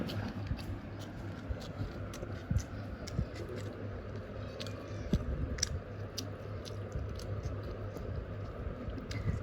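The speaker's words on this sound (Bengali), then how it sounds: "লেবু খাই লেবুর খোসা" Close, quiet chewing of lemon peel during an eating show: steady wet munching and small crunchy bites go on throughout with a few sharper clicks, and no talk.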